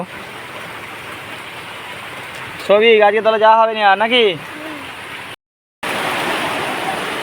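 Heavy rain pours down as a steady, loud wash of noise that fills the whole stretch, with a person speaking over it for a couple of seconds and a brief cut to silence before the downpour resumes.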